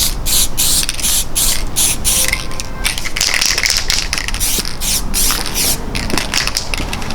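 A spray can hisses in repeated short bursts, each a few seconds or less, as light coats of camouflage paint go onto an airsoft gun's rail, loud and close with brief pauses between passes.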